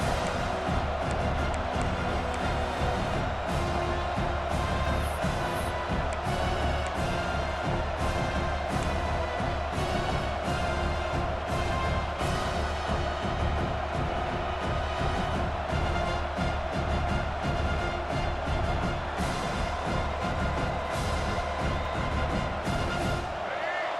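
A large stadium crowd roars steadily at a distance, a dense, unbroken wash of cheering and chatter that holds at one level throughout.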